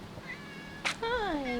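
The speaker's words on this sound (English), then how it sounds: "There's a cat." A cat gives a single clear meow, rising then falling, close by and fairly quiet, after a soft brief sound against faint background noise.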